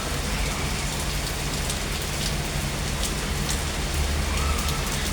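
Heavy rain pours down in a dense, even hiss that holds steady throughout, with no other sounds standing out.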